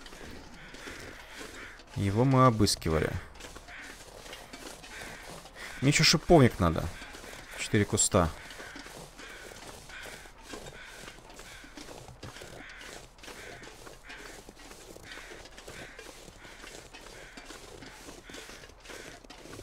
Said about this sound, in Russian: Так, вороны летают.